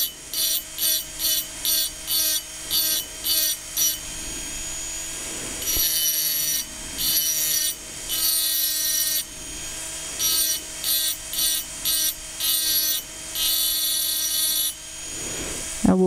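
A rotary burr engraving a glass vase whines in close, repeated bursts, some short and rapid, others longer strokes, with a high-pitched grinding tone and brief pauses between passes.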